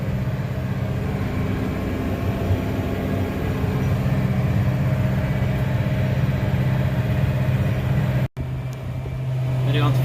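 A tractor pulling a white corn planter with an AgLeader monitor rumbles steadily through an Iowa field. The engine hum is close and constant and cuts off abruptly near the end.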